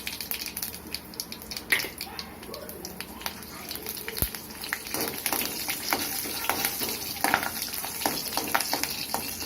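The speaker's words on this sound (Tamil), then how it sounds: "பச்சை மிளகா போடும்போது நீங்கள் கொஞ்சம் தள்ளி நின்றுங்க, இடிக்கும் நல்லா." Mustard seeds and green chillies splutter in hot oil in a pan for a Tamil cabbage poriyal, giving a steady crackling sizzle broken by sharp pops, close and moderately loud.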